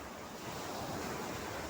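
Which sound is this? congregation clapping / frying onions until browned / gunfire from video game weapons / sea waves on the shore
sea waves on the shore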